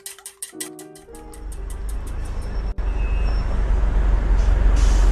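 Steady, loud roar of city traffic in the video game Martha Stewart Doesn't Live Here, with engines rumbling and a hiss like an air brake, building in intensity; a few rhythmic clicks open it.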